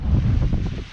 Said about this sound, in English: welcome to a very windy West Coast beach